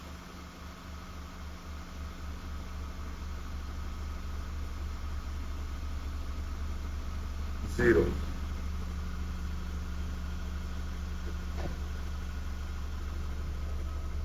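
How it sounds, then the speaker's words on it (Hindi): A car lift in a Frankfurt car park carries a car down to floor -3 at night, giving a steady low mechanical hum and faint whirring with a brief knock midway; a voice briefly speaks. "और लिफ्ट में गाड़ी नीचे जाना -3 फ्लोर पे, उसके बाद ऊपर आना"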